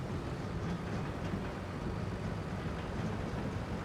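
Steady engine rumble of a tractor driving in Farming Simulator 25, a continuous low drone with road noise holding level throughout, no talking.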